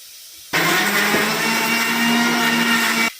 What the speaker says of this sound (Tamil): புளியை மட்டும்தான் ஊற வச்சு தக்காளியை போட்டு அரைச்சிடுவோம்